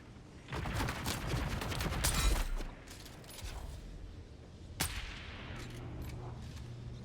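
Gunfire in the desert survival game Dune Awakening comes as a dense burst of rapid shots for about two seconds, followed by scattered single cracks and softer mechanical noises.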